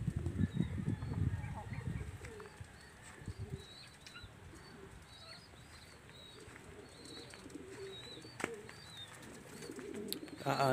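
Pigeons at a loft coo and flap nearby under steady outdoor ambience, with low wingbeat and coo bursts strongest in the opening seconds and fainter scattered chirps after; one pigeon may have been taken by a hawk.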